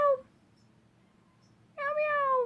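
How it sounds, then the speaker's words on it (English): A pet cat gives two meows, one short at the very start and a longer, clear one near the end, with a quiet stretch between them and no talking. "meow. My other cat."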